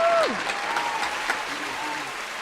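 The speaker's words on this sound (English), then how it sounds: "Okay, round of applause right there." A small podcast audience gives a short round of applause with a voice speaking briefly over the clapping.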